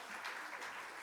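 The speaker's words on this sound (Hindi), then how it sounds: "सब ने बहुत ज़ोरों से तालियां बजानी चाहिए प्रसन्न जी सर के लिए" A seminar audience gives a guest lecturer named Prasann a brief, faint round of clapping, soft and far off in the room.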